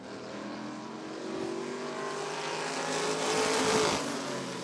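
Vintage race cars in a Northern Outlaw Vintage Series feature at Rockford Speedway roar around the turns in a tight pack. The engine note is loud and continuous, with several cars swelling slightly as they pass close by.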